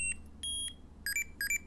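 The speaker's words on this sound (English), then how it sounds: "if that beeping is my Tamagotchi" A Tamagotchi toy beeps in short, high electronic chirps: a few single tones, then quick paired bursts, clear and close over a low background hum.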